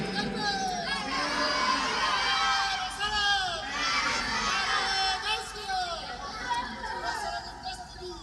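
A large crowd at an Islamic religious gathering shouts takbir in loud, overlapping waves of voices that rise and fall over several seconds, fairly close and continuous.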